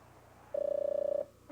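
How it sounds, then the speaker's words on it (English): A Zenith Space Phone television gives off a single steady electronic ring tone, clear and close, lasting under a second before cutting off. "Sam, answer the television."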